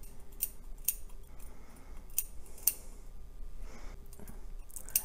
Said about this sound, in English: Now I'm just going to go ahead and cut one section, which is 4 inches wide and 5 inches tall